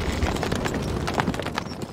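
Horse hooves in the medieval strategy game Stronghold Crusader make a brisk, continuous clip-clop of rapid overlapping hoofbeats, close and fairly loud, with no talking.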